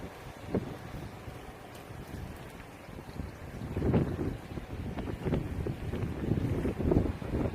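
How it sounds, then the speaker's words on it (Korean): Strong wind buffets the microphone at Daejeong harbor in Seogwipo, Jeju, with moored fishing boats nearby; low gusty rumbles rise and fall throughout, swelling in bursts, with no one speaking. "오늘 날씨가 바람은 많이 불고 있어서"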